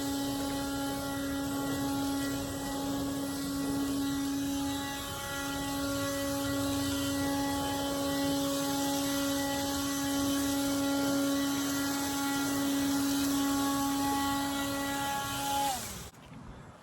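A battery-powered leaf blower blowing leaves outdoors on a breezy day, a steady loud motor whine held for about sixteen seconds before it winds down and cuts off at the end, with no talking.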